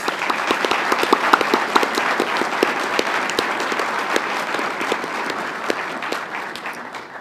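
Sustained applause from a large crowd at a military farewell ceremony at Fort Riley, steady clapping throughout that fades slightly toward the end.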